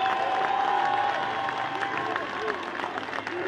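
Rally crowd at a May Day political speech applauding and cheering steadily, a dense wash of clapping and shouts with voices mixed in throughout.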